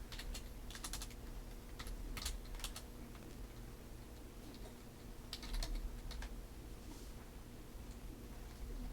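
Light keystrokes on a computer keyboard as a short note is typed, irregular clusters of clicks over a steady low background hum, fairly quiet and close.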